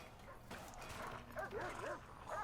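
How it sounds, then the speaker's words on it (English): A beagle guard dog barks and yips in the prison management game Prison Architect, with short barks and whimpering calls repeating over a busy background of game ambience. "Looks like Bonaparte, the guard dog, has turned up. The beagle."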